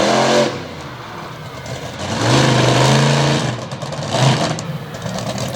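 A Hemi-powered monster truck revs its engine loudly at a monster truck event, with a strong throbbing roar that swells and drops across the run amid crowd and arena noise.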